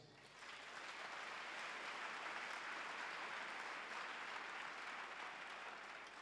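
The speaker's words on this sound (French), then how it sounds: "Acclame Jésus." A church congregation applauding, a broad wash of clapping that swells in quickly and holds steady at a moderate distance, with no voices over it.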